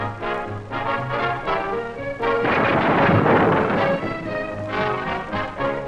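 A heavy bowling ball rolls down a 1940s bowling alley lane with a deep, loud rumbling roar that swells through the middle, heard over orchestral music on an old film soundtrack.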